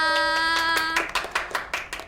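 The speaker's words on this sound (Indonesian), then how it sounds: "Yeay, tepuk tangan dulu lagi" An audience gives a short burst of scattered applause, starting after a brief sustained tone and continuing as uneven, moderately loud claps.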